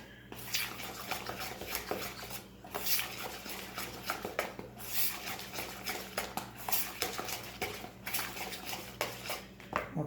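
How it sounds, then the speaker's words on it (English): Cornbread batter stirred in a bowl, a rhythmic wet scraping and swishing with spoon knocks against the sides, repeating in even strokes, close and steady with no talking. "I'm gonna stir it in"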